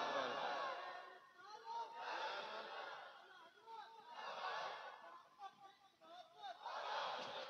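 A crowd at a religious gathering answers with a chanted takbir slogan, several swelling waves of many voices rising and falling in rhythm, moderately loud and reverberant.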